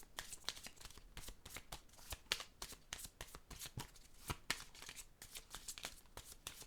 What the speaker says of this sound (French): Je vais déposer une carte rose.